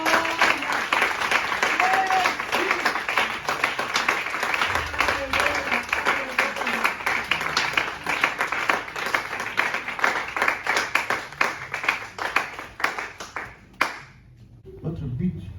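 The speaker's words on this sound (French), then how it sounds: "Tu acclames très fort." Loud, dense applause and cheering from a church congregation at a Sunday service, sustained for about thirteen seconds before cutting off abruptly.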